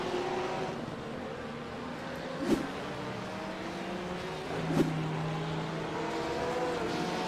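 GT3 race cars circling Circuito de Jerez during a race battle, a steady engine drone with two sharp louder bursts as cars pass close by, no voices.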